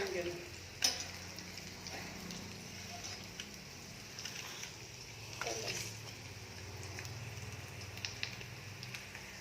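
Kadai paneer gravy in a pan, spluttering and popping while frying, a soft continuous sizzle broken by sharp crackling pops, with a voice talking faintly underneath.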